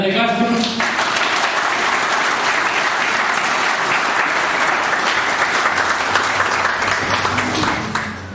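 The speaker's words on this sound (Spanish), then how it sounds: "fuertes aplausos para Dante Castro" A loud, sustained round of applause from the audience at a book presentation for Los topos, honoring Dante Castro, with dense clapping filling the whole stretch after a voice trails off at the start, fading slightly at the end.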